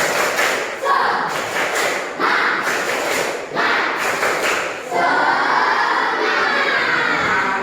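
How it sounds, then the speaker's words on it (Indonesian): Students in a classroom perform a spirit clapping chant, with rhythmic bursts of clapping and thumps mixed with children's shouting voices, ending in a louder sustained group shout. "Kawan, biar tidak loyo, silakan tepuk semangat."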